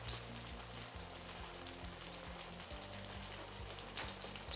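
Swedish potato pancakes, raggmunk, fry in a pan, browning at the edges: a continuous close sizzle with fine crackling spatter throughout, over a low steady hum and no talking.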